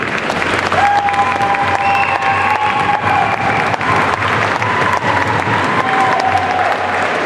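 Sustained applause from a graduation audience, loud and steady throughout, with dense clapping and some crowd noise and a few faint whistle-like tones after a class valedictorian speech.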